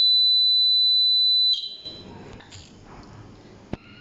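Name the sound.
buzzer ringing on laser security alarm circuit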